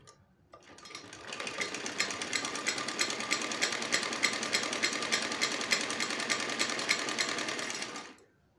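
A sewing machine runs a continuous, steady stitch along the doubled-over waistband seam of a lined salwar, its rapid needle chatter starting after a brief pause, staying close and even for about seven seconds, then stopping abruptly.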